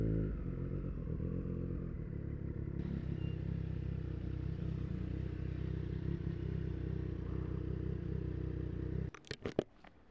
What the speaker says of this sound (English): Another Triumph, Bonneville T100.